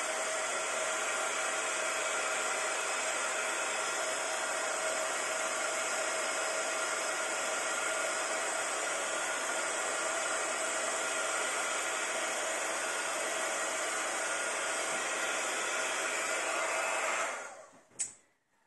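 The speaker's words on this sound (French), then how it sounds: "vous pouvez prendre votre heat gun pour pouvoir sécher" A heat gun blows steadily for about seventeen seconds while drying a handmade card background, a constant loud whooshing hiss that cuts off abruptly with a click at the end.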